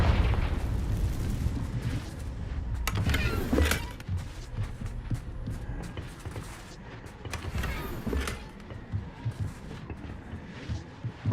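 Confringo blasting spells in Hogwarts Legacy explode amid busy combat noise, with bursts around four and eight seconds rising over a constant dense rumble of game action and effects.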